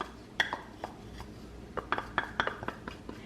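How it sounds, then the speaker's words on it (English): Peanut butter and oats are stirred into a thick no-bake chocolate oatmeal cookie mixture, a spoon clinking and knocking irregularly against the pot or bowl, close and fairly quiet, with no talking. "And then you also want to stir in your peanut butter and oats."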